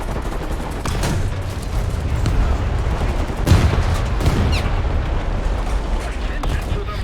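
Gunfire and explosive booms in a War Thunder battle, a dense continuous barrage with a heavier blast in the middle, loud throughout with a voice speaking over it at times.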